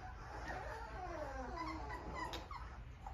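A puppy whimpers and yips in thin, rising cries over a steady low rumble, close and continuous across the short stretch.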